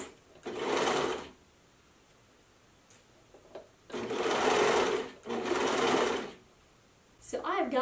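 A domestic sewing machine stitches seams on lace lingerie panties in three bursts of steady, close, loud whirring, each lasting about a second or more, separated by quiet pauses, with a brief voice near the end.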